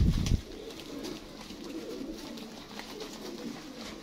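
After a brief thump, pigeons coo softly nearby in low, rolling murmurs that continue steadily.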